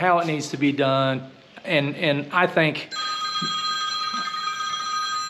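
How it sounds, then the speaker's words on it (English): A telephone rings steadily for the last couple of seconds, a continuous electronic bell tone at moderate level, following someone speaking about house renovation work on a tiled shower project. "sorry for the phone call"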